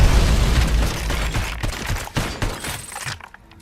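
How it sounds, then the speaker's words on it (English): Sniper rifle fire in the Robocop Rogue City video game: heavy booming shots with rolling echoes, loud and close, fading out at the end. "Sniper rifle."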